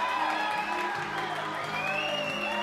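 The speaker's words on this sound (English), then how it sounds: "The audience broke into loud cheers." Loud, continuous cheering and whooping from a festival audience at a children's art performance, a dense roar of many voices with scattered shouts running the full length without a break.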